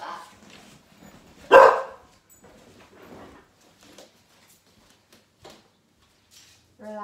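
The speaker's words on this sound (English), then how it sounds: "there was a dog barking outside" A dog barks outside during an indoor yoga session: one loud, sharp bark stands out close to the start, with only faint, scattered sounds around it and no talking.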